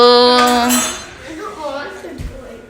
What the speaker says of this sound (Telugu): ఇవన్నీ సర్దాలి గిన్నెలన్నీ సర్దేసేయాలి